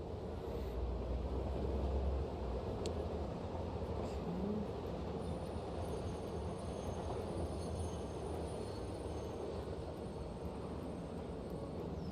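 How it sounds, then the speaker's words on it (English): A train in a video game backing in, a continuous low rumbling drone held at a steady level throughout, with no talk. "we should be able to hop back into the train and back it on in"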